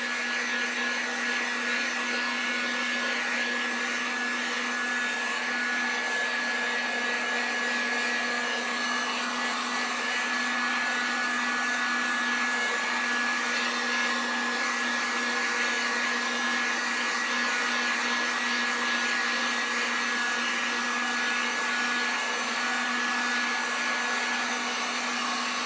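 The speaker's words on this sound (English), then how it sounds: "I'm going to grab the heat gun. We're going to just go over this real quick." Heat gun blowing over fuchsia acrylic paint on a flamingo sign painting, a steady, loud, close whooshing roar with a constant whine that runs unbroken throughout.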